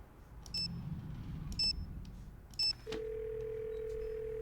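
Telephone dialing in the Nancy Drew game Ghost of Thornton Hall: three short bright button beeps about a second apart, then a steady continuous dial tone over faint background hum.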